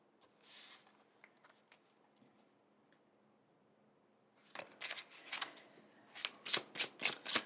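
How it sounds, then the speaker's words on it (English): Tarot cards shuffled and drawn: a quiet opening with a soft brush, then a run of crisp riffling bursts that grow louder and faster toward the end, with no talking. "Just gonna get another card here."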